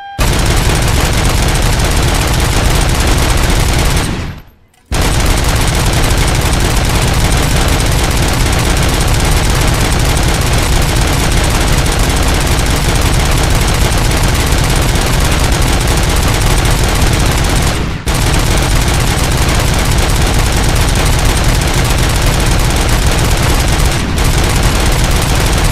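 Rapid, sustained automatic gunfire from a video game weapon roars loud and dense with almost no pauses, cutting out only for a brief gap near five seconds and two short dips later.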